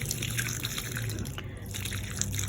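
Water trickles and splashes steadily as potted plants are watered, a continuous close splashing with faint drips and no talking.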